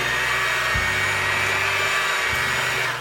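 An electric hand mixer whirs steadily through brownie batter after two sticks of melted butter are added, a constant motor drone with a couple of brief bumps as the beaters knock the bowl.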